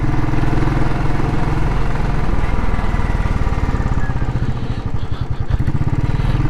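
A Royal Enfield Classic 500 single-cylinder motorcycle runs loud and close, its low thumping beat and mechanical clatter holding steady before the pulses grow more distinct and slightly uneven as the revs ease.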